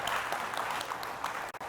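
A live audience at an interview event claps steadily for under two seconds, with a brief dip near the end.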